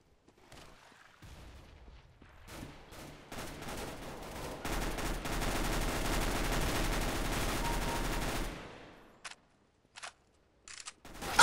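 Rapid gunfire and a no-scope sniper shot crack through a Counter-Strike: Global Offensive round on the Nuke map, a dense burst of shots building to sustained fire, then a few isolated sharp reports after it stops.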